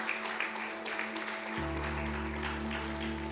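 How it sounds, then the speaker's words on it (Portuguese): Church congregation applauding during a sermon, a dense, steady patter of clapping throughout, joined midway by a sustained low instrumental hum or organ-like drone beneath it. "Você pode aplaudir o nome de Jesus?"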